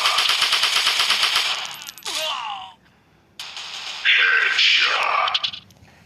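Sustained bursts of automatic rifle fire from an online shooter video game, loud and rapid in the first two seconds, then renewed shooting with mechanical clatter later; no talking.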